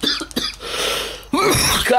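Several harsh coughs from one person, loud and close, in a short burst with brief pauses, followed by a louder raspy cough and throat sound at the end.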